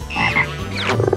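A cartoon frog croaks loudly and close up in a children's animal colors setting, giving a short series of throaty croaks that ends in a quick rhythmic burst, with no talking.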